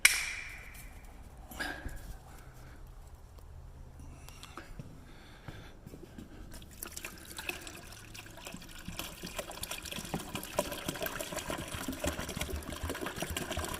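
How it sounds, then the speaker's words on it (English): Toilet tank being filled and flushed during a septic system inspection with a collapsed pipe, quiet trickling water at first, then a louder rushing, gurgling flow building over the second half. "Oh, it's gonna be one good flush."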